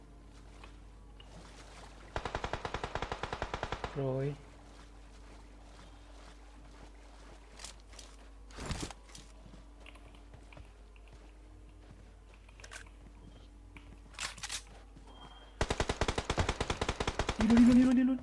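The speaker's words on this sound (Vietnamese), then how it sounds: "Nó chĩa súng bắn mọi người." Gunfire from an enemy in a video game: two long bursts of rapid automatic fire, one early and one near the end, with a single louder shot between them over low game ambience and a brief spoken word.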